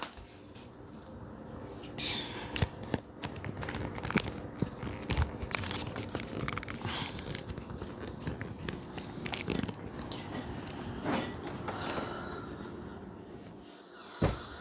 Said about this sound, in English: why does everything make a crunchy sound?